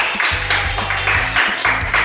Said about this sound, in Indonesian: Kasih tepuk tangan dong untuk kita semua.